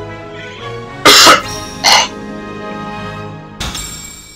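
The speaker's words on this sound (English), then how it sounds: "This is starting to get annoying with this coughing." Harsh, loud coughs over video game music: one burst, a second shorter cough about a second later, then another after a pause, close and dry.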